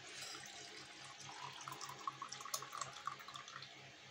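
Garlic turmeric milk is poured into a glass, giving a steady liquid stream with small splashy gurgles and drips building near the end, close and moderately loud, with no talking.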